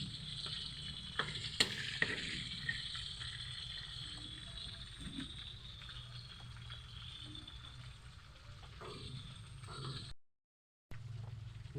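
Pork cooking in a pan over a wood fire, giving a steady close sizzle with scraping and clinking of stirring, a few sharper knocks early on and a short gap near the end.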